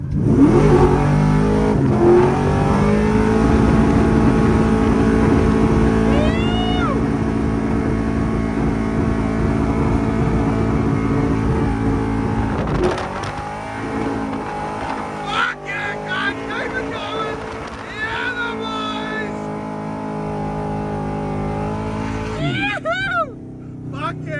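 A car engine on two-step launch control revs hard and holds a steady high drone, then drops and crackles in sharp bursts, with people talking over it nearby at a Powercruise event.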